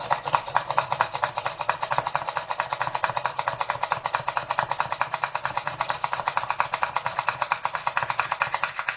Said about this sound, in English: then I'll just come back through and drill this side